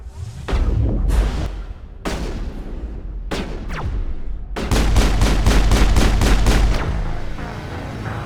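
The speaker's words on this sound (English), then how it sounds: "I was just shooting the guy in the face" Video game gunfire in loud separate bursts, then a fast rhythmic string of close shots, with booming low impacts carrying through between them.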